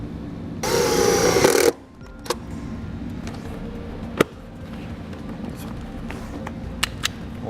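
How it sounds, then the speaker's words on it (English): A power drill drives a self-tapping screw into the kick panel of a 2007 GMC Sierra pickup, a loud, harsh whirring burst lasting about a second, followed by quiet cab ambience with a few faint clicks. "I'm going to run a self-tapping screw right there."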